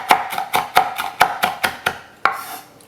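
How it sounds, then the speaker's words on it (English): A super sharp knife chops through a tight bundle of fresh herbs on a cutting board in about ten crisp, evenly spaced strokes, close and clear with no talking. "Now hold the leaves in a tight bundle and then slice them finely. And now coarsely chop."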